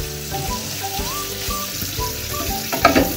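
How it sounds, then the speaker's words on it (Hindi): Honey garlic prawns frying in a pan, a busy continuous sizzle with crackles and a few stirring scrapes, close and alone. "बहुत ज्यादा फ्राई नहीं करना है"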